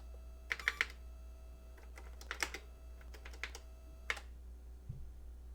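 Short bursts of key presses on the Famicom BASIC keyboard, a few quick clusters of clicks separated by pauses, fairly close against a low steady hum, with no talking.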